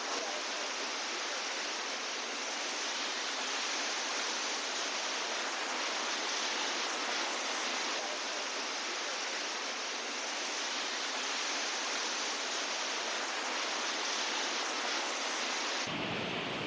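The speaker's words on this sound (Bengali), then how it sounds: "এইটা আবার ছোট্ট ওয়াটারফলের মতন এইখানে পড়ছে" A small waterfall pours into a rock pool, a steady, full hiss of falling water that stays constant and fairly close throughout, with no voices.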